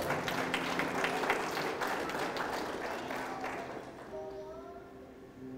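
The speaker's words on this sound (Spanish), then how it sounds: "Denle un aplauso al Señor por esta palabra" A Spanish-speaking church congregation applauds in a dense burst of clapping that tapers off after a few seconds, leaving a quieter room with a voice and a faint tone.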